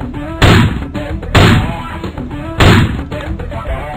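Gunshots in a shooting video game, three loud sharp blasts spaced about a second apart, each trailing into a short rumble over a steady high-pitched background tone.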